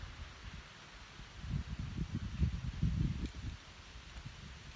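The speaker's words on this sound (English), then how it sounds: "Sometimes when it's windy, I can hear it on my editing, the wind sound on the video." Low, gusty wind buffets the microphone outdoors, swelling to a stronger rumble in the middle before easing back to a soft steady blow.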